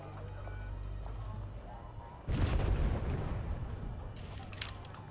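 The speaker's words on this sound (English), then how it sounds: "Su-24M going to be dropping in some bombs" Bombs from an Su-24M strike aircraft exploding in Wargame Airland Battle: a heavy low rumble swells suddenly into a loud, sustained blast that rolls on and slowly fades, with a low engine drone before it.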